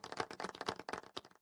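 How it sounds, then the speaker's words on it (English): Golf clap applause sound effect: a dense burst of many hands clapping, steady and bright, lasting about a second and a half with no voices. "Golf clap."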